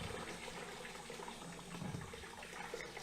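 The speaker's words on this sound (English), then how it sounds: "and we've got a nice stream of water." A steady stream of cooling water gushes from a boat engine's pump outlet into a bucket beside an exhaust installation, a continuous faint splashing and pouring without talk.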